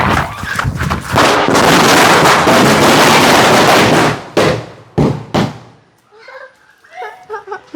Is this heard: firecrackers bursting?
yes